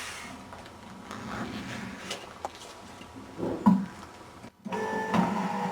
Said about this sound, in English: We can do it under power on the machine by flicking the pad off.